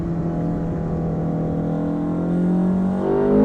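An Ariel Atom accelerating hard on a race track, its loud engine note climbing steadily in pitch and swelling toward the end, heard close and alone.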